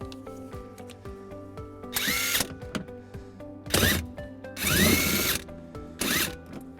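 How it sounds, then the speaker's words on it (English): A power tool with a 10mm socket drives out a screw on a 2015 Toyota Sienna while fitting a trailer wiring harness, giving several short whirring bursts between quieter clicks and mechanical handling noise. "that exposes a screw that we're going to remove using a 10mm socket"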